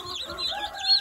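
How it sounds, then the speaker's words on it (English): Soft, high-pitched peeping and chirping from young meat chicks, continuous and close, with no voices. "little meat chickens."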